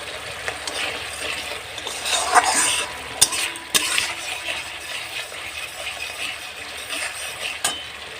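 Ginger, cumin, fennel and onion masala fries in oil, giving a steady sizzle broken by scraping spatula strokes and a few sharp clanks against the pan, close and clear.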